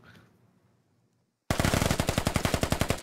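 Automatic gunfire in the military shooter game Squad: after a second and a half of near silence, a loud, rapid burst of machine-gun fire erupts and rattles on steadily to the end.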